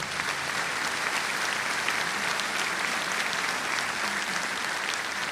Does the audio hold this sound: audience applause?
yes